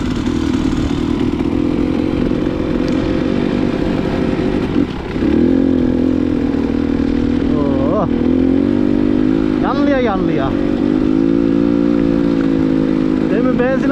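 A motorcycle engine idles and revs nearby on a muddy outing, a steady loud throbbing hum with short rising revs, while several people talk and laugh over it throughout.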